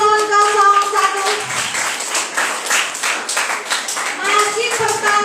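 A crowd claps loudly and steadily for a candidate pair at a school student council election debate, with voices and a brief spoken phrase heard through the applause.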